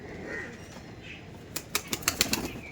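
A pigeon's wings flap in a quick burst of about six beats, near and fairly loud, after a quiet stretch.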